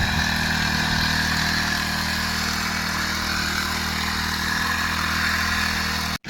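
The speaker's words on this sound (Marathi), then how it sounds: "तर मित्रांनो पेट्रोल पंप बंद काय हो राहिला नाही" A petrol-engine crop sprayer pump used for spraying cabbage and onion fields runs loud and close, a steady buzzing engine drone with clattering mechanical noise that holds constant before cutting off abruptly at the end.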